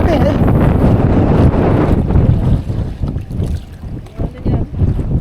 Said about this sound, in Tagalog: Lakas ng hangin, grabe eh.